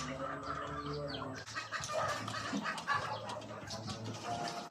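Young four-month-old gamecock chickens, siblings kept apart in a yard, cluck and call steadily and fairly close, with wing flaps and small rustles mixed in throughout.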